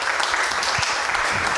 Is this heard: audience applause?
yes